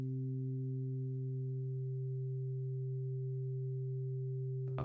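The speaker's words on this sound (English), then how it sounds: "The third sine wave." Steady pure synthesizer sine tones held in a mix, a third sine partial sustained at even level alongside lower partials, one upper partial dropping out midway, ending with a brief click.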